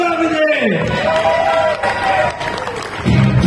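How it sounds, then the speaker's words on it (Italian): A crowd at a chilli-eating contest at an Italian agricultural show claps and cheers, with someone talking loudly over the applause. "Gli facciamo un mega applauso a Davide!"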